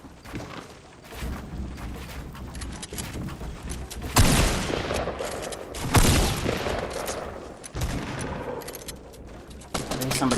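Sustained bursts of automatic gunfire in a solo-squads shooter match, loud and dense, with heavier volleys and impacts near 4, 6 and 8 seconds and shots coming from several directions at once.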